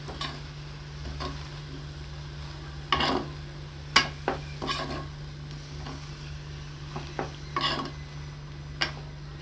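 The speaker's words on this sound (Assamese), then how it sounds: "এয়া ভাজি আছোঁ" Leafy greens (Morisa xaak) frying and being stirred in a pan for an Assamese dish, with a steady low sizzle under scattered sharp scrapes and clinks of a utensil against the pan, close by.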